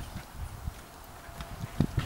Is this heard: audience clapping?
no